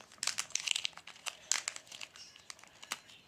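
Wrapping around a toy from a surprise egg being pulled open: close, busy crinkling and crumpling with a few tearing snaps, steady and alone.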